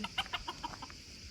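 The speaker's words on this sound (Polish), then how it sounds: "to jest chyba miniaturowy kogucik" Soft, quick clucking from a small rooster, a run of short chirpy calls in a steady rhythm, fairly faint against background noise.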